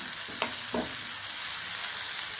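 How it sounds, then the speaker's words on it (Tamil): Onions sizzle steadily in a pan with a bright, continuous hiss, broken by a couple of brief knocks as tomato goes in; no one speaks. "வெங்காயம் ஒரு நிமிஷம் வதங்கட்டும் இப்போ தக்காளி சேர்த்துக்கிறேன்"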